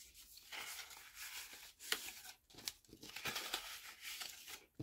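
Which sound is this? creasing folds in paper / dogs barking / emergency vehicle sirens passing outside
creasing folds in paper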